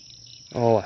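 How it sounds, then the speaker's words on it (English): Insects whine close to the ear at a fishing spot by the water while bass fishing, a thin high steady buzz that suddenly swells into a louder, richer drone near the end. "Oh, I hear the mosquitoes buzzing in my ear."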